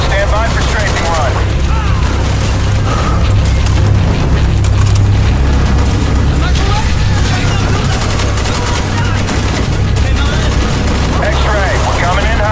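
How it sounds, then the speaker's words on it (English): An aircraft strafing run in Call of Duty: Black Ops delivers loud, continuous rapid gunfire and booming explosions in a dense, unbroken barrage, with shouted voices buried in the din. "Stand by for strafing run."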